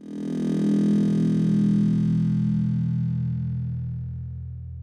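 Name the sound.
kick drum sample time-stretched with Flex, a very cool sound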